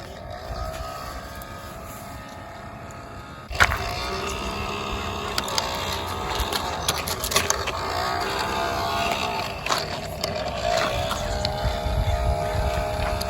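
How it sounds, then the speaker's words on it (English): A small toy leaf blower motor whirs continuously with a buzzy, fluctuating drone, rising and falling in pitch over several seconds, with a sharp knock near the start. "Let's hear that noise it makes. Wow, that's a cool motor."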